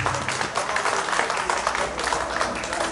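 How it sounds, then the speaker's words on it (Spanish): Loud, dense applause from an audience at a Bolivian stage show, many hands clapping together in a steady continuous wash with a faint low hum beneath. "Aplausos y eso que acaban de cenar"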